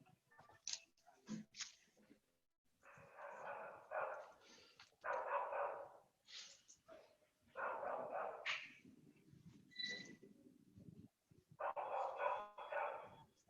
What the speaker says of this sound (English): The dog is getting excited to speak more.